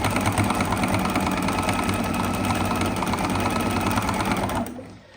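A sewing machine runs steadily and loudly, back stitching over the pocket flaps on a fabric Easter egg, then winds down and stops right at the end.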